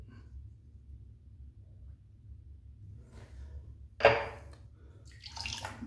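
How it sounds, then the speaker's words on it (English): Water dumped from a shaving brush and a stainless steel cup at a wet shave kit, a short splash near the end after a quiet stretch, followed by a brief second pour. "Dump the a little bit of water out of the brush, water out of the cup."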